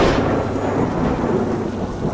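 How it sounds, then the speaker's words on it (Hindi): A thunderstorm with heavy rain, deep rolling thunder rumbling under a loud, steady downpour. "बहुत तेज़ बारिश हो रही थी, गरज चमक के साथ।"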